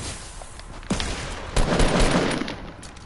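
Gunfire in a battle royale video game: a few sharp shots, then a denser burst of rapid firing around the middle, heard fairly clearly over quiet background noise.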